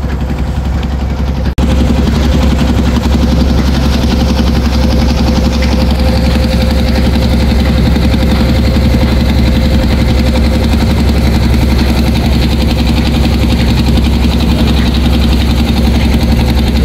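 The engine of a passenger launch boat at a dock thrums loud and steady in a deep continuous drone with a faint higher whine, unbroken for the whole stretch.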